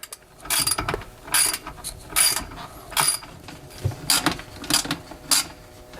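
A ratchet wrench loosens two bolts on a sink drain elbow beneath a kitchen garbage disposal, giving repeated close bursts of rapid clicking with short pauses between them and no talking.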